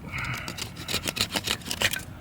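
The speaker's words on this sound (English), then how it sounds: "It does produce fat wood scrapes." A bushcraft knife, a BPS B1 or BeaverCraft BSH3, scrapes fatwood in a run of quick, close, raspy strokes, with irregular bright scratches over a faint background.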